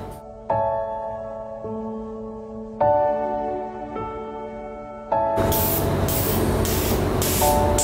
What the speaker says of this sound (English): You can actually hear the pressurized oxygen which comes out of the nozzle.